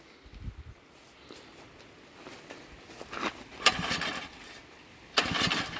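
A small gasoline tiller engine is pull-started outdoors: a few sharp, rasping bursts of increasing loudness, the last one the strongest, with quieter handling noises between them and no long steady run.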